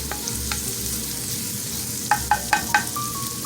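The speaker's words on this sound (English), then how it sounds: "we're going to go ahead and add our 3 minced garlic cloves, and we're going to let that saute also for about a minute" Three minced garlic cloves sauté in a pan for creamy lemon pasta, a continuous soft sizzle with a few quick utensil clicks near the end, no voices.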